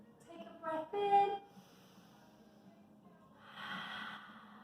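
During an intermediate pilates exercise a person takes a deep breath in: a short voiced sound, then a soft, drawn-out airy inhale close by, in an otherwise quiet room.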